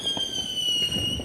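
Fourth of July fireworks pop and crackle through a quick, irregular series of bursts. A steady high electronic whistle runs underneath.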